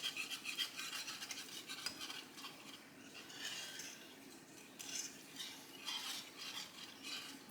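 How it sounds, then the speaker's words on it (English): Broth being whisked into giblet gravy in a pan, with rapid rhythmic metal whisk clatter at first that gives way to softer bubbling and scraping, faint and close, no voices. "I'm going to whisk it so that way it doesn't get lumps."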